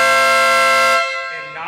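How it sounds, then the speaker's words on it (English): A Stebel Nautilus air horn fitted to a Vespa GTS blares one loud, steady, brassy note for about a second, then cuts off into a quiet tail. "Huge difference in decibels with the air horn."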